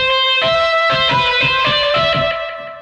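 A sustained, harmonically rich synth tone with heavy distortion and echo, pulsing in a steady rhythm for pop punk production, loud and alone, fading slightly at the end.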